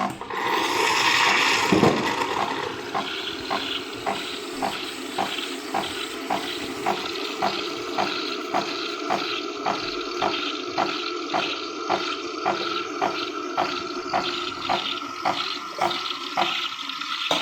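Nespresso Gran Lattissima coffee machine making a latte in a recipe glass: a loud, steady hiss with rapid, regular pump pulses running throughout, with no talking.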